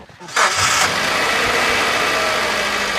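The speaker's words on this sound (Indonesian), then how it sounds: "Oke, mesin ini udah udah dinyalakan. Suaranya halus" A 2015 Suzuki Carry Futura 1.5 pickup truck engine cranks and catches, then settles into a steady, smooth idle that rumbles on loudly and close by.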